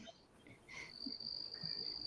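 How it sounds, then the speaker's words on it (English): Crickets chirping in a steady, faint high-pitched trill that carries on without a break, with soft background noise underneath and no talking. "It sounded like crickets."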